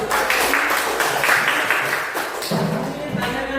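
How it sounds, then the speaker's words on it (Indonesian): Classroom of junior high students clapping hands together, a loud dense burst of applause lasting several seconds with scattered thuds and voices mixed in. "Ya, tepuk tangan dulu."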